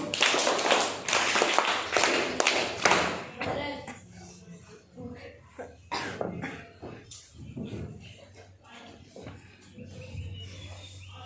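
Loud burst of clapping from a crowd after a student's poem recitation for the first few seconds, then fading into scattered taps and murmuring voices.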